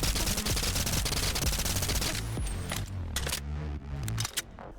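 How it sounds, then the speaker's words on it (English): Suppressed gun in the VR game BONELAB firing a rapid string of muffled shots over loud, steady background music, with the shots fading into scattered bursts toward the end. "Despite being suppressed, its firing sounds are not extremely high-pitched and aggravating, nor is it unrealistically silent."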